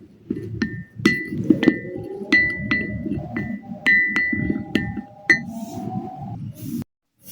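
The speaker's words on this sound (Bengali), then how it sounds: "এখন আমি দুধ এবং মধুর মিশ্রণটাকে খুব ভালোভাবে মিশিয়ে নেব।" A spoon clinks repeatedly against a bowl as milk and honey are mixed for a face pack, with irregular bright taps over soft scraping, close and fairly loud, with no talking.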